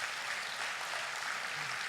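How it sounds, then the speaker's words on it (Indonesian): Applause from a church congregation during a sermon, a steady dense wash of clapping that fills the whole moment without pause, fairly distant and even in level. "Berikan tepuk tangan yang paling meriah."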